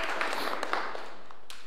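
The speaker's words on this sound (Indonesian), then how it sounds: "Berikan tepuk tangan buat yes ya." Church congregation applauding during a Sunday men's service, a brief burst of scattered claps that thins out quickly, with faint voices mixed in.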